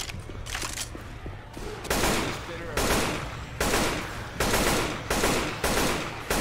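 Gunfire in the zombie shooter Left 4 Dead 2, repeated loud bursts of rapid automatic fire roughly every second, with game noise between volleys and no clear talk.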